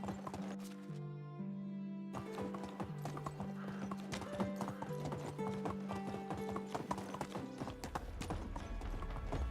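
Horse hooves clip-clopping at a steady riding pace in the medieval survival game Medieval Dynasty, close and rhythmic, with a tonal musical score running underneath.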